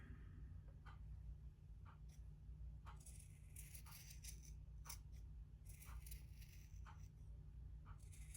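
Scissors snip along a T-shirt neckline seam, lightly trimming uneven fabric edges: a string of short, quiet, sharp cuts at an irregular pace over a steady low hum.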